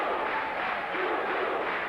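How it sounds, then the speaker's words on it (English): A boxing crowd roars in a steady, dense wall of noise during the late rounds of the Ray Mancini vs. Jose Luis Ramirez lightweight fight; no distinct chanted beats stand out. "The crowd chanting, boom, boom, boom, boom."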